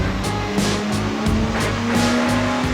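A Porsche Boxster sports car runs hard on a dyno, a loud, continuous engine roar with a rising pitch that repeatedly surges and dips in a steady rhythm, close and filling the space.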